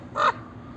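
A single short, harsh caw from a crow rings out at moderate distance over quiet background, with no talking.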